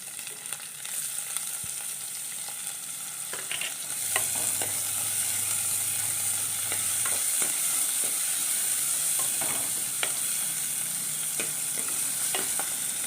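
Chopped onion frying in oil with ginger and garlic for a squid curry: a steady, close sizzle runs throughout, broken by scattered clicks and scrapes of stirring, with no talk.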